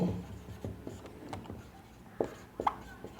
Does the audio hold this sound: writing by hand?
yes